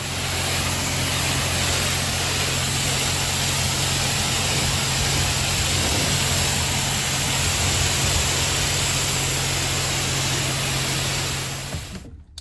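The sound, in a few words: automatic car wash washing the vehicle Charlene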